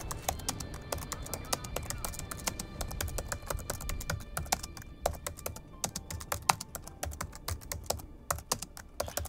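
Rapid, uneven clicking of a computer keyboard being typed on during a War Thunder gaming session, with close, crisp keystrokes in quick bursts throughout and no voices over them.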